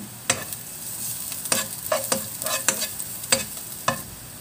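Garlic sautéing in a hot pan, a steady sizzle broken by about seven sharp scraping stir strokes at irregular intervals, close and fairly loud with no talking.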